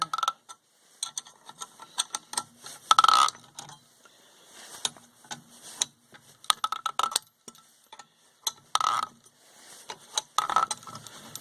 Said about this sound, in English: that noise is the sound of the bearing coming down the shaft here.